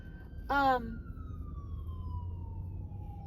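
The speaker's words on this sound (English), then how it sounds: "There goes the ambulance again. I mean, not the ambulance, a fire truck." A fire truck siren wails past with a falling pitch, slowly fading into the distance after a short, loud horn-like blast near the start.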